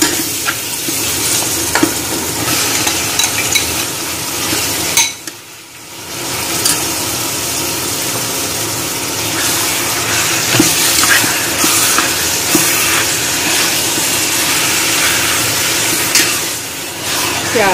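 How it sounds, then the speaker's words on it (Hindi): Minced meat (keema) fries in oil in a pan for macaroni, giving a loud, close, continuous sizzle with stirring scrapes and a brief lull partway through. "थोड़ा इस तरह भूनने बाद फिर इसमें हम कीमा डाल देंगे"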